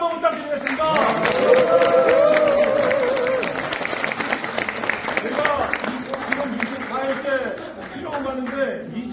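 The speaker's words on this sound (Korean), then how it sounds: "우리 각자 각자 영웅 위해서 다시 한번 뜨거운 박수!" A crowd claps steadily, loud at first and then thinning out, with voices and cheers mixed into the applause.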